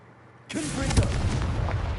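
A Confringo spell explosion in Hogwarts Legacy bursts out after a quiet half second, a loud sudden boom that rolls on as a heavy, sustained rumble.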